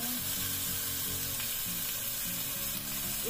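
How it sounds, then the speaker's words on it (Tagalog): Fish fries in a pan with a loud, dense, unbroken sizzle and hiss, close up, with a low hum underneath and no voices. "Ready na po natin i-fry yung ating fish"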